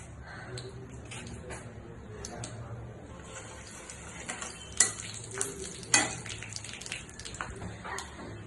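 Panch phoron spices sizzle in hot oil in a pan, a steady soft frying hiss with a few sharper pops and spoon scrapes, quiet and close.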